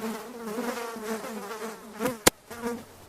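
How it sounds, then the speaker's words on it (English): Minecraft bees buzz steadily close by, a wavering droning hum that rises and falls, broken near the end by one sharp click, with no talking. "the bees stopped buzzing around and returned back to the hive"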